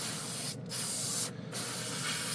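Spray gun laying down a wet coat of paint, a loud continuous close hiss broken by two short pauses where the trigger is released, no talking.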